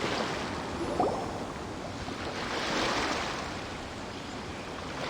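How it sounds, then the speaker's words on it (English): Ocean waves in the video game Genshin Impact make a steady, airy wash of surf, swelling gently midway and then easing back, with no voices over it. "The sound of the ocean waves."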